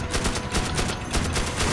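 Rapid gunfire in the wizard co-op game Magicka: a fast, loud string of close shots repeating evenly across the whole stretch.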